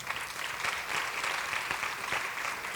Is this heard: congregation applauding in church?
yes